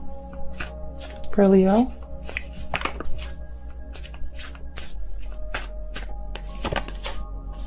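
Tarot cards are shuffled by hand in a steady run of crisp riffling flicks that carries on under a voice speaking close by.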